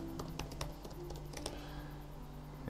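Keys clatter in a quick, uneven run of typing on a computer keyboard while a name is entered in a design program. The clicks are close, fairly quiet and sit over a steady low electrical hum, with no talk.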